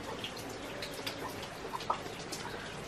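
Rain falls steadily outdoors at a rural mountain home near a chicken coop, with scattered close drips and patters over a constant wet hiss.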